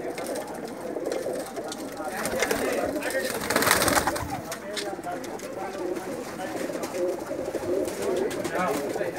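Teddy pigeons coo in soft, repeated throaty calls, close and continuous, mixed with the rustle of birds moving about; a person talks over part of it.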